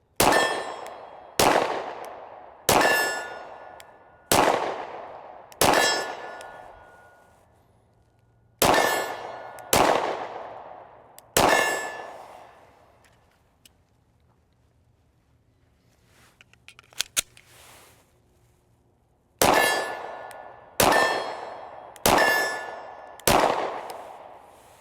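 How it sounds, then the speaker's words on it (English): A Sig Sauer P365 XL 9mm pistol fires at a steel target 25 yards away, each sharp shot followed by a ringing metallic clang, in quick runs of four or five with a quiet pause between groups. "we're gonna just shoot this now at 25 yards, see how it shoots on a steel."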